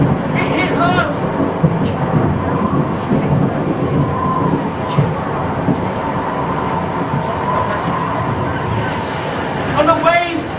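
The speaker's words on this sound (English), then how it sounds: "Oh yes, the storm! It hit hard!" Stage storm effect of rumbling thunder and steady rain-like noise, loud and continuous throughout, with crowd murmur and scattered voices underneath.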